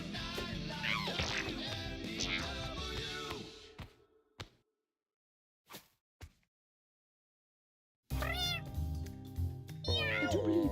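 Cats meow again and again in the video game Mewgenics, loud and layered over game music and effects, then a near-silent stretch with a few faint blips before the meows and music return at full volume.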